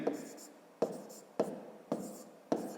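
Pen writing on paper while working a long division problem, five short scratching strokes in a regular rhythm, close and fairly quiet, with no speech.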